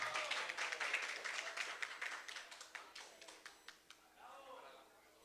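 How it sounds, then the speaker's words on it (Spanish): An audience applauding a prize winner at a school awards ceremony, loud close-packed clapping that gradually thins out into scattered claps and fades away after a few seconds. "Un aplauso para él, por favor, a Sebastián."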